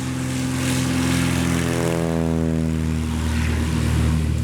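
A light propeller airplane takes off from a muddy grass strip in Moravia, Costa Rica, in high density altitude conditions. A steady, loud engine-and-propeller drone holds throughout, with harmonic tones slowly shifting in pitch as the aircraft gathers speed.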